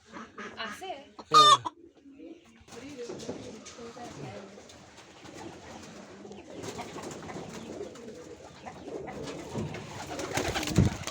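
A hen and chicks in a village: clucking softly nearby with a brief louder squawk early on, then faint peeping and clucking continue under quiet background noise and murmured talk.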